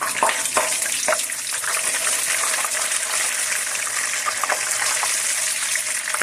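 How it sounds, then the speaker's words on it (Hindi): Whole spices stirred into matar keema frying in a pan, a close, continuous loud sizzle with occasional spoon scrapes and light knocks throughout. "हम इसमें अब खड़े मसाले डालते हैं और इसको थोड़ी देर मिक्स करते हैं।"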